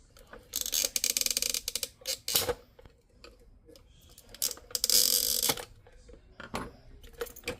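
Screwdriver and metal parts clicking and rattling during a Subaru WRX fuel pump upgrade, irregular bursts of sharp ratcheting and tapping close by, alone with no voices.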